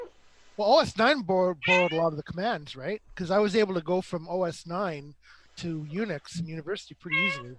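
A pet cat meows in protest while being petted, its cries tangled up with a man's continuous nearby chatter.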